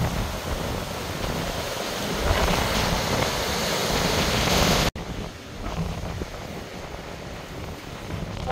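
Strong, gusty seaside wind near Oryukdo blasts the microphone in a continuous roar over crashing surf, with a brief dropout midway before the buffeting resumes.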